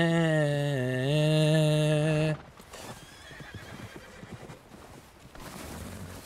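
A horse in Red Dead Redemption 2 gives a loud, close, wavering whinny, followed by quieter hoof clops and shuffling sounds.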